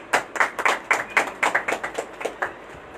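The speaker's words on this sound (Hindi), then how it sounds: "उनको स्वागत करते हुए ताली बजा करके उनको" A church congregation at a Sunday service claps to welcome the pastor, with about a dozen sharp, slightly uneven claps in a rough rhythm, close and fairly loud, without talk.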